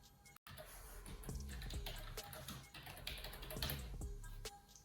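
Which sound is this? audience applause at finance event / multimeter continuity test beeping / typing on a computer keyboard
typing on a computer keyboard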